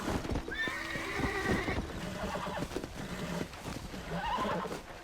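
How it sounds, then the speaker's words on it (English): A unicorn horse whinnies and neighs while being tamed in Red Dead Redemption: Undead Nightmare, with several close, loud calls over hoof clatter and scuffling. "Is the unicorn harder to break than the other horses?"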